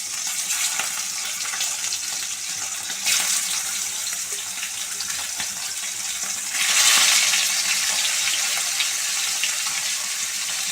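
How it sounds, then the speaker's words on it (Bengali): Continuous bright hiss of pomfret frying in oil, loud and close, swelling briefly near the middle and again toward the end. "পমফ্রেট মাছগুলো তেলে ভেজে নিতে হবে তেলটা গরম হবে গ্যাসটা সিম করে মাছগুলো দিয়ে দেবো"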